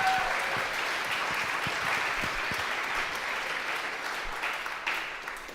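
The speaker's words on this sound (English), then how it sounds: "how about one more round of applause for the composers on stage?" Concert audience applauds composers on stage at a saxophone recital, sustained crowd clapping at moderate distance, steady and slowly tapering toward the end.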